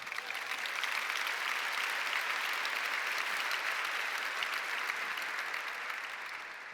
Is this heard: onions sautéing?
no